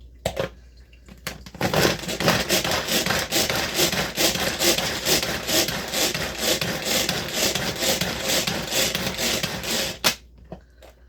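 Rapid knife chopping of sticky garlic on a wooden board, a dense run of close wooden knocks and scraping strokes going on steadily for about eight seconds before stopping.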